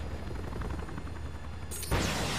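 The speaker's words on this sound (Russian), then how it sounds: "Там это, вертушка." A helicopter in the video game Resident Evil 6 gives a low, churning rumble under a wash of game noise. A sudden louder burst breaks in near the end.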